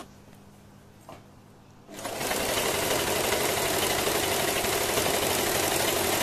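A sewing machine stitches falls onto a saree, starting after a couple of quiet seconds with a faint tap, then running in a steady, close mechanical whir.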